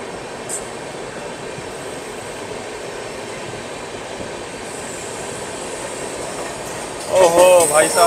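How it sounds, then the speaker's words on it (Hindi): Duronto Express train running on rails, a steady rolling rumble and rail noise throughout, with a louder burst of wheel and passing-train sound near the end as it overtakes the Lucknow Mail. "हम लोगों की ट्रेन अपनी दुरंतो काफ़ी अच्छी स्पीड अप होती हुई"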